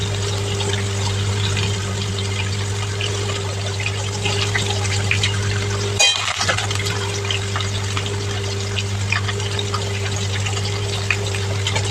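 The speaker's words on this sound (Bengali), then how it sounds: "ভাত হয়ে গেছে, ফ্যানটা গেলে নেই" Starchy water drains from a pot of cooked rice as a steady, loud pouring gush over a low constant hum, with one brief break midway.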